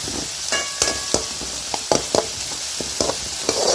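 Ginger, garlic and onion sautéing in a pan, a constant frying hiss broken by repeated sharp scrapes and taps of a spatula against the pan, close and fairly loud.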